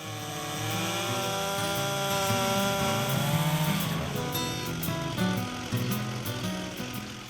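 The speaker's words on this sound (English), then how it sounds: "Rich and his helpers start trimming off and grinding the smaller limbs and branches" Chainsaw trimming and grinding the smaller limbs and branches of a fallen tree, running continuously and loud with fluctuating engine pitch as it bites through wood.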